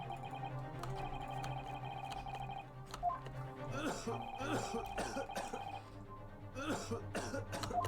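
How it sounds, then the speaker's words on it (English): Several coughs and throat clearing break out over a steady background hum, with voices talking around them. "No, stop coughing."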